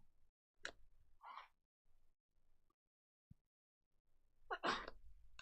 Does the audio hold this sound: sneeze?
yes